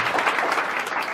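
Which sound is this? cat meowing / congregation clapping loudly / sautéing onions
congregation clapping loudly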